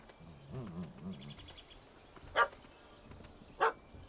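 Dog barks in The Witcher 3: Hearts of Stone, two sharp isolated barks a second apart over quiet game ambience and faint music.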